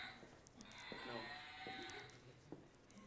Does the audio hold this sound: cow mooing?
yes